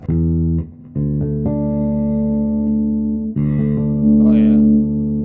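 Loud notes from a Jackson Pro Series Spectra Bass V five-string electric bass with the mids boosted, sustained tones changing a few times, and a short burst of talk or brighter sound near the end.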